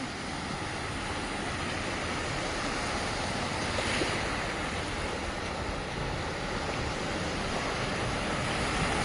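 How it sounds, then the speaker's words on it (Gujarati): Overflowing water from the Machchhu 2 canal floods roads near a Morbi intersection, producing a steady, loud rushing wash of water with no talk. "મચ્છુ 2 કેનાલના આ કેનાલ ઓવરફ્લો થઈ ગઈ"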